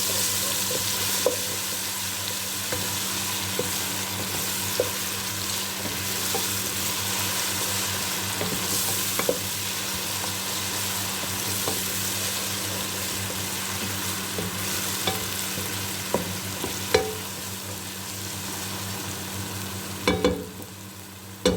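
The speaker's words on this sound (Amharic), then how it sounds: "ከዛ ያዘጋጀሁት ዝንጅብልና ነጭ ሽንኩርት እየተፈጨ በዚህ መልኩ ጨምራለሁ ማለት ነው።" Onion frying with ground ginger and garlic sizzles continuously at moderate volume nearby, broken by intermittent scraping and clicking as a utensil stirs the pan, with a louder clatter near the end and no voices.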